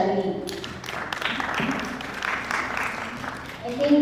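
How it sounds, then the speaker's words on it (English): Conference audience applauding a speaker, a brief burst of clapping heard alongside a voice talking over it, fairly close and moderate in loudness. "let's give another round of applause for Shani"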